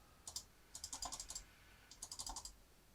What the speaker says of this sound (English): this is basically a Word document that I'm typing out